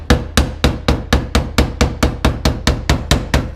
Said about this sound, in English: Now I'm going to see if I can take my hammer